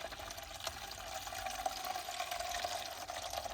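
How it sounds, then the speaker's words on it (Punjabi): Water poured into a container set out for pigeons at a loft, a steady continuous splashing and trickling that stays fairly close and even for the whole stretch, with no talking over it. "ਪਾਣੀ ਪਾਤਾ"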